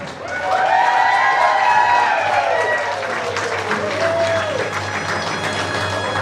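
Applause and cheering rise from a wedding reception crowd for the groom's parents, loud at first then easing, with a voice speaking over the clapping.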